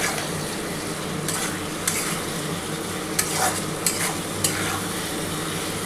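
Spice paste being sautéed with pointed gourd and potato pieces in oil for a katla fish curry, a steady close sizzle broken by several sharp spatula scrapes and stirs against the pan, with no talking.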